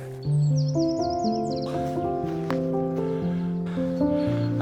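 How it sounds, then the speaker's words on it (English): Several birds chirp and sing outdoors, bright calls overlapping above a steady low background hum, moderately close and continuous. "With the microphone on, hopefully you can hear the sounds. It's just so beautiful with the birds."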